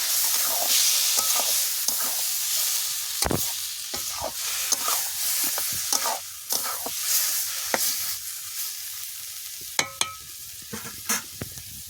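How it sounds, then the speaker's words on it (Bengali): Bottle gourd stirred into shrimp in a hot pan, giving a steady close sizzle with scraping stirring strokes and occasional sharp clinks. "এবার লাউ দিয়ে দেবো চিংড়ির মধ্যে, দিয়ে হয়ে যাবে আমার লাউ চিংড়ি"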